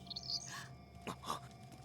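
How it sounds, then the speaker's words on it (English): A short, faint bird chirp sounds in the Fire Emblem: Radiant Dawn video game, with a couple of thin high tweets followed by softer game sounds, with no talking. "That sounded like a bird!"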